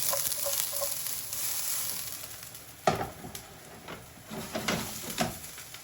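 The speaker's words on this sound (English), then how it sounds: "give this one a stir. We're just stirring it around." A pan of food for satay chicken with stir-fried greens sizzles while being stirred, with a continuous frying hiss, scraping spatula strokes and a louder clunk midway.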